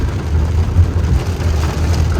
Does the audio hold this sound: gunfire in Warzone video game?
no